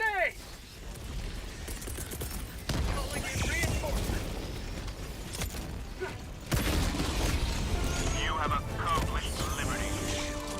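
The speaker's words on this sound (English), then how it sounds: "Throwing grenade!" Grenade explosions and gunfire in the video game Helldivers 2, with heavy booms and bursts of shots over constant battle noise. Voices talk and shout throughout.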